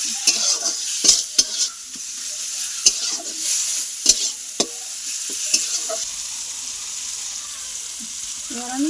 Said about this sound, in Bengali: টমেটো আর পেঁয়াজটা একটু নরম হয়ে আসবে।